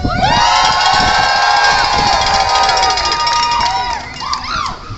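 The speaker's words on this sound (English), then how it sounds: "Give yourself a loud cheer of appreciation." Rally crowd for transgender rights cheering and whooping loudly in a sustained roar, with shouts rising over it near the end.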